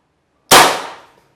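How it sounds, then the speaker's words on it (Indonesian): A single sharp crack from a PCP air rifle shot, with an abrupt onset and a short decaying tail, loud and close, alone against silence. "Triggernya tinggal ditekan saja, bisa langsung keluar."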